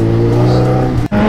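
A BMW M5 engine roars steadily and loudly on an empty road, holding a strong, even note before dipping briefly near the end and picking up again.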